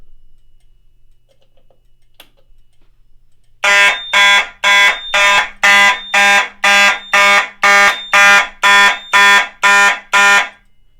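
A newly installed fire alarm system sounds in zone 1 after a key-switch re-arm: after a quiet start, a loud pulsed electronic tone repeats in about a dozen even, evenly spaced bursts.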